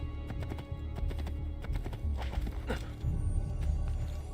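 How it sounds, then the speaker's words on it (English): Horse hooves clip-clop in a steady trotting rhythm during a ride in the video game Assassin's Creed II, with an occasional whinny over a soft background bed. "Just enjoying a nice ride with my horse."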